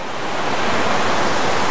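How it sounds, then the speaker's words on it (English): An enormous waterfall running roughly half a mile alongside a road and bridge produces a loud, continuous broadband roar of rushing water with no breaks. "It's enormous, this waterfall."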